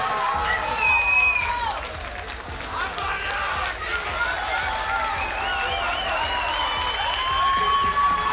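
Crowd applause and cheering for two fighters after a GAMA mixed martial arts bout, a steady broad wash of clapping lasting throughout, with an announcer's voice talking over it.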